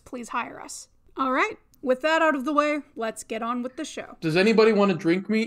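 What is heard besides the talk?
No everyday noises stand out.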